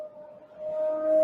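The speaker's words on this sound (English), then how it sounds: "That sounds like a whale." A low, drawn-out whale-like call from the game Riven, holding a steady tone that swells louder toward the end, with no speech over it.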